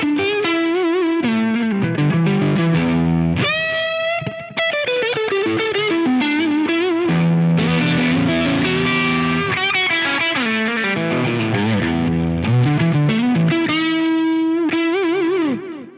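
An electric guitar runs through a Face Fuzz drive model at stock settings into a JTM45 amp tone, giving a thick, saturated, continuous fuzzy lead with sliding sustained notes and bends, loud and steady throughout with no speech.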